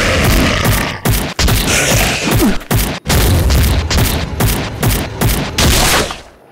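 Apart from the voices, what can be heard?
gunfire at lift buttons in Devil War FPS video game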